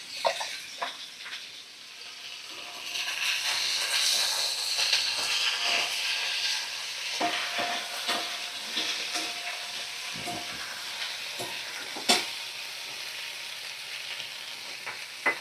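Fish sizzles and hisses in hot oil with salt and turmeric, a steady frying crackle punctuated by sharp clicks and scrapes of a stirring utensil.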